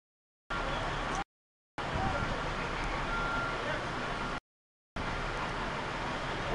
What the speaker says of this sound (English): Oh, there's another fire truck in the alleyway.